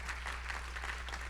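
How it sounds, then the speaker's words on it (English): A brief burst of audience applause at a conference session on service and civic action, soft, even clapping lasting only a moment over a low steady hum in the hall. "Can we have another round of applause for Michael?"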